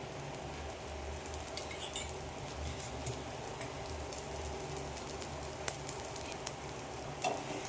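Dosa batter spread thin for a crisp dosa sizzles on a hot pan, a continuous crackling fizz with small popping spatters, close and moderately quiet, with no talk.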